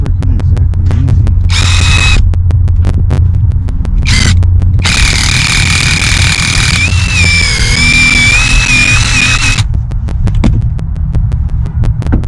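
Close, loud power drill working through fabric sound deadener in an Escalade for a Bose bypass, a steady throbbing hum broken by several rising whines of the motor speeding up, then settling back.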